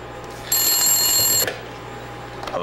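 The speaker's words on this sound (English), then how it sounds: "This phone hasn't rang in years." An old telephone bell rings in a single continuous burst of about a second, loud and close in a quiet room, with a brief rattle as it stops and faint rustling afterward.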